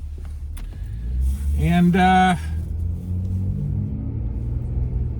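Steady low engine rumble and road noise fill a car cabin while driving, with a brief louder rising whine in the middle; someone talks over it.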